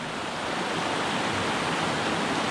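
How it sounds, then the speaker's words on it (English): A small Pennsylvania mountain stream in a state park, holding brook and brown trout, rushes and splashes in a steady, close, unbroken broadband wash with no voices over it. "Nice small Pennsylvania mountain stream."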